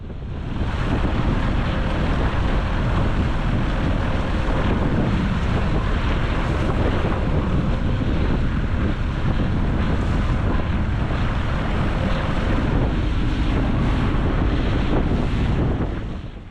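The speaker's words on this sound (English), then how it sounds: "This wind was completely unexpected and certainly not forecasted." Strong Force 5 wind gusts and breaking waves at sea north of Ardnamurchan Point, roaring steadily into the microphone with constant rushing water and wind buffeting throughout, loud and unbroken.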